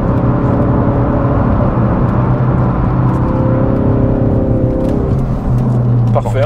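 A Ford Focus RS MK3 in drift mode slides sideways, its engine droning steadily and close with shifting harmonics and a rising whine near the end, while people talk over it.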